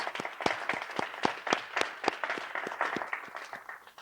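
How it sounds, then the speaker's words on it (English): An audience at a downtown changemakers celebration gives honorees a round of applause, with steady, moderately loud clapping from a crowd that carries on without talk. "Let's give them all a big round of applause."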